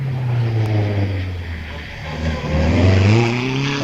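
A Caterham 7 race car climbs the Wiscombe Park hillclimb course, its engine droning loud and steady with rising revs and a gear change partway through, a faint voice in the background.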